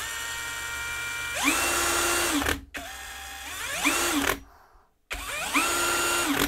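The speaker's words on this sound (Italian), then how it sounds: "abbiamo la punta di trapano già montata vi faccio vedere pure che gira perfettamente dritto" A Parkside Performance cordless hammer drill-driver with a drill bit fitted spins up three times in short bursts, each with a rising whine that holds steady and then winds down, separated by brief silences.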